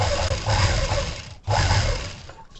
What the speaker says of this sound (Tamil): நம்ம அப்படியே லென்த்து நார்மலாக ஸ்டிச் பண்ணுற மாதிரி பண்ணிட்டு வந்துடலாம்